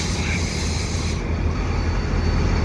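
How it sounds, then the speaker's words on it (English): A CSX freight train led by an SD40-2 locomotive arriving at Dorval, a loud, continuous rumble of engine and rolling cars with steady hiss, no voices. "Oh no, it's two CSX locomotives"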